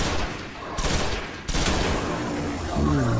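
Rapid gunfire in the sci-fi shooter Destiny on Mars at the Garden's Spire, loud bursts of shots filling the clip with brief gaps, and a voice briefly audible near the end.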